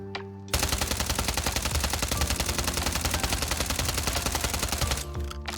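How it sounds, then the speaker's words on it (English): Sustained automatic SMG fire in the Warzone 3 firing range, a loud rapid stream of shots lasting about four and a half seconds, then stopping abruptly; no talk. "all you have to do is just pull down while you're shooting"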